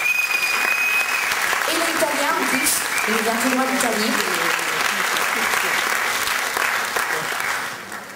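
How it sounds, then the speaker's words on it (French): A concert audience in Belgium gives loud, sustained applause for an Italian singer, a dense, continuous roar of clapping that tapers off at the very end while a presenter speaks over it. "Je vous demande de l'applaudir très fort"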